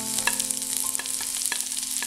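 Ginger and onion fry in a pan for chammanthi podi, with a steady close-up sizzle and a spatula scraping and tapping the pan every fraction of a second, no voices.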